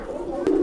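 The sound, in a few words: agitated female Madrasi pigeon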